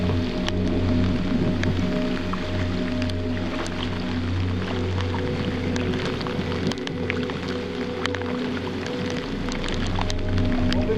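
Rain falls steadily on the Econ river during a thunderstorm, a dense, even patter heard from an exposed boat over a low, constant motor-like hum.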